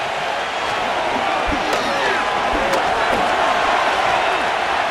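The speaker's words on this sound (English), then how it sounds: "This crowd into it now as we get to 3rd down." Stadium crowd roaring in the Madden NFL 25 video game as the Jets face the 49ers, a dense continuous wash of cheering at steady loudness, with a few faint thuds within it.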